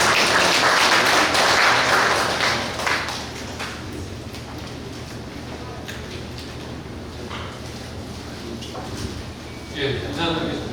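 An event audience at a regional development information forum breaks into loud applause for an incoming presenter, dense clapping that fades over a few seconds into room noise and scattered sounds.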